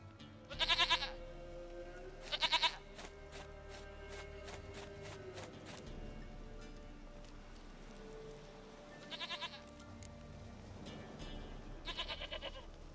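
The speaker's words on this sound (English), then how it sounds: "Goat of mine, dearest, sweetest goat." Goats in The Witcher 3: Wild Hunt bleat in four loud, separate bursts, two close together early and two later, over a steady low in-game ambient background with no talking.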